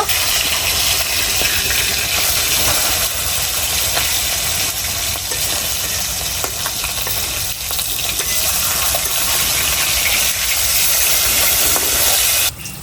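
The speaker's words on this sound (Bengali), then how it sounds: "আমার মাছগুলো তো ভাজা হয়ে গেছে লাল করে" Fish frying in a pan gives a steady, dense sizzling hiss that runs almost unbroken before cutting off near the end.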